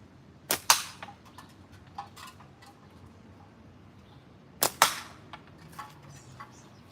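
Two slingshot shots at a tin can, each a sharp double crack of release and impact several seconds apart. Faint ticks and light handling noise fill the quiet between them outdoors.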